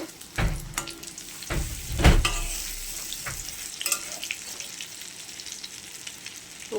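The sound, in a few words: papaya and potato fritters frying in pan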